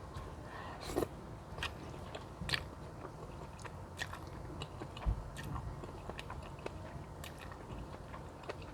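Close, quiet biting and chewing of pasta and meatballs, with soft wet mastication and a few sharper bites and clicks spaced irregularly over a low background.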